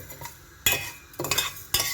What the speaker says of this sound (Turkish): Ay, kavuruyoruz ya şehriyeleri.